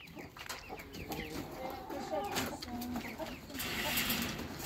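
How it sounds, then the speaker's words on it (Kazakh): Brahma chicks and hens on a small Kazakh farm cluck and cheep in a continuous, close, busy stream, with scattered bird chirps mixed in and a little voice in the background. "Міне мынау брама балапан"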